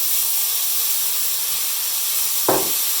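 Pointed cabbage and other vegetables hit a very hot pan while making yakisoba, Japanese fried noodles, giving a steady broad hiss of steam and sizzle with a sharper burst near the end, heard alone with no talking.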